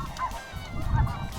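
Speckle-bellied and snow geese honking over prairie decoys on a windy Canadian hunt, a short burst of overlapping calls, fairly close and loud.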